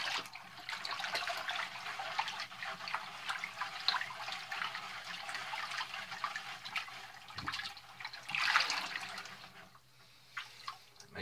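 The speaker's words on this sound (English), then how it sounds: "Now I'm gonna mix this around, let it dissolve, just like we did with the alum and salt solution." Water swirls and sloshes as tanning solution is stirred to dissolve it for tanning a beaver tail, a soft, continuous liquid churn close by with a few brief splashes.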